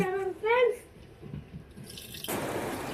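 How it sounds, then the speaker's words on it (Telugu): Water poured into a pot of jaggery set on a stove: after a brief voice and some quiet kitchen noise, a steady splashing pour starts near the end and runs on close and clear. "మళ్ళీ స్టవ్ మీద పెట్టి ఇందులో నీళ్ళు పోస్తుంది"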